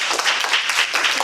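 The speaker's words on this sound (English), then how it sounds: "Let's have a round of applause for our new members." A Toastmasters club meeting audience applauds new members, a brief, dense burst of many hands clapping nearby.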